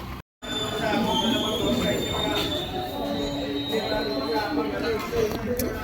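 Train rolling near Someshwara beach in Karnataka, a steady rumble with metallic wheel squeal and a faint high whine throughout, brief silence at the start, with background chatter.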